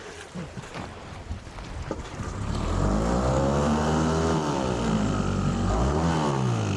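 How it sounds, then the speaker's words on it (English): A small outboard boat motor sputters as it starves for fuel. Rough choppy noise gives way to a loud, wavering engine drone that rises and falls in pitch, close to the microphone, with wind buffeting. "Sounds like the motor's starving. Starting what? Starving for fuel."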